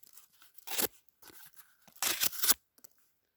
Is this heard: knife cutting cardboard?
yes